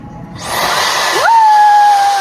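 Hair dryer roars close up as it blows air into a large round brush, a loud steady whoosh whose pitch rises and then holds as a sustained whine.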